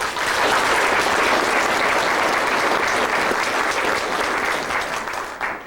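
A church audience applauds the volunteers who provided the meal at a United Church 125th anniversary gathering, steady dense clapping filling the room throughout before easing slightly at the end.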